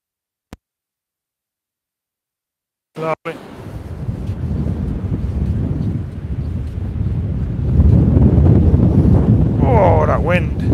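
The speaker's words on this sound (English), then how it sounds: "Oh, that wind." Strong gusting wind on Trimingham beach during a shore angling session in 40 mph winds and rain, a loud continuous buffeting roar across the microphone that follows a short click and brief silence, swelling louder toward the end.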